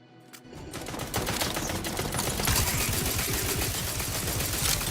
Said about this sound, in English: the chain spark cannon works really well